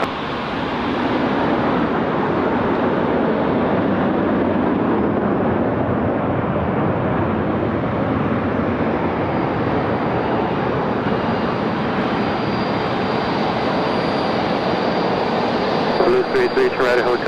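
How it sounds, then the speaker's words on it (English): A USAF Mississippi Air National Guard Boeing C-17A military transport lands at Phoenix, its jet engines giving a loud, steady roar that holds throughout, with air traffic control radio chatter running faintly beneath. "caution wake turbos, heavy C-17 just landed, runway 7 right"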